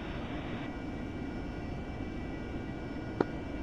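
A jet aircraft engine in the DCS World flight simulator roars as a steady, broad rush throughout, with one brief sharp click near the end.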